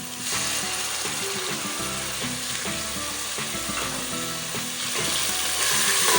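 Lahori chickpea masala with yogurt frying in a pan, a loud close sizzle under a steady rhythmic mechanical clatter throughout, with no voices.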